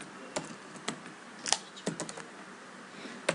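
Router configuration commands being typed on a computer keyboard: irregular close keystrokes in short bursts with gaps, a few louder key hits standing out over a quiet background.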